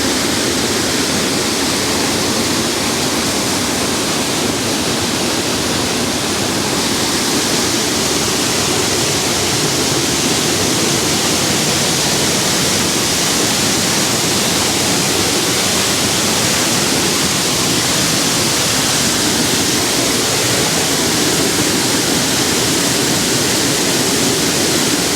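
A powerful waterfall in the Arkansas Ozark National Forest roars as a steady, dense wall of rushing white noise, loud and close, unbroken for the whole stretch with no voices.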